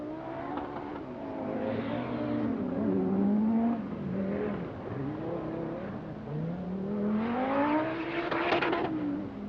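A short-wheelbase Audi rally car with 450 bhp, driven hard on the 1984 Lombard RAC Rally, accelerates in a loud surge with the engine note rising and falling through gear changes, close and sustained.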